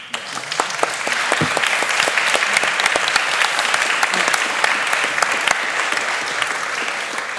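Sustained applause from a theatre audience after a public debate on the future of food, a thick bed of clapping with scattered crisp individual claps, steady and fairly loud throughout.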